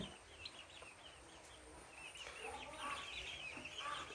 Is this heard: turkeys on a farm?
yes